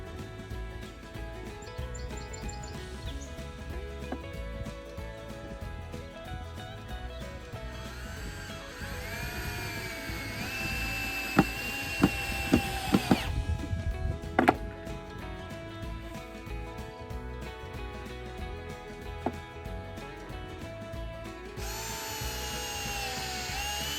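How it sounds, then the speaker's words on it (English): A power drill driving two-inch decking screws into wood while a poultry cone stand is built outdoors; a whirring drill runs in bursts with a few sharp knocks near the middle, birds chirping in the background. "Two-inch decking screw goes through quite nice."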